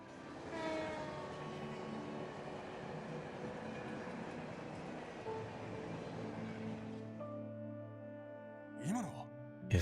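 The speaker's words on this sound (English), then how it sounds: "the last train bound for Calvard?" The last night train to Calvard rumbles past in the video game Trails from Zero, a steady loud roar with tonal hum that cuts off abruptly near the end, followed by faint sounds.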